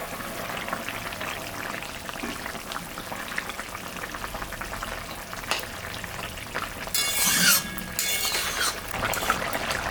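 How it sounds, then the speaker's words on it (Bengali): Pabda fish slipped into a simmering thin curry broth: steady bubbling and sizzling throughout, with a brief louder splash and hiss near the end as the fish goes in. "এখন আমি মাছটা দিয়ে দিলাম।"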